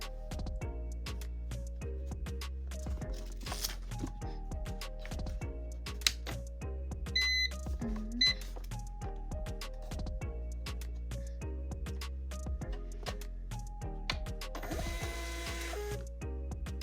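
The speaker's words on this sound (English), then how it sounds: "let's go ahead and print our label" Munbyn thermal label printer printing a shipping label, a steady run of rapid mechanical clicks and whirring motor pulses with a few sharper ticks, close and alone.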